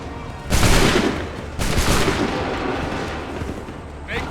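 A musket volley in Assassin's Creed III breaks out as a loud, close burst of massed gunfire, followed by a second ragged wave of shots that fades into a rolling rumble, with brief shouted orders.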